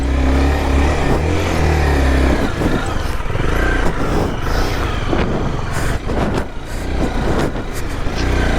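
A Honda CBR 250R motorcycle rides off-road in first gear through the Chakkarlu hills, its engine droning loud and close with rough, shifting revs and bumps throughout.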